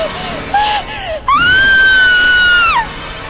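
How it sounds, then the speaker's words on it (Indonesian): A woman screams loudly and at length, a rising sustained shriek with shorter cries before it, up close and alone. "Mendengar ada suara teriakan,"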